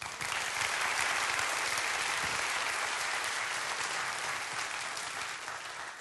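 Sustained audience applause at a TEDx talk in Saclay, a dense, steady wash of clapping from a large crowd that holds evenly for about six seconds with no voice over it.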